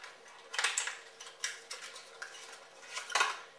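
Metal cutlery clinks and scrapes against a dish as anchovies are mixed in, a close, quiet series of irregular taps and stirring scrapes with no talking.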